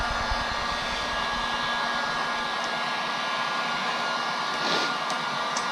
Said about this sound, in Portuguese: é um soprador térmico, né? Já é uso profissional.